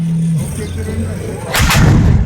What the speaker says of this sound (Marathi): कांठळ्या बसवणाऱ्या तोफांचा मारा गोळीबार